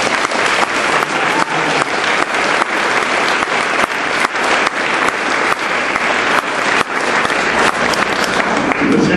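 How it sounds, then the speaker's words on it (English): An audience at a school award ceremony gives a loud, sustained round of applause: thick, even clapping that carries on for about nine seconds with no break. "let's give Clarence and Amy one more big round of applause"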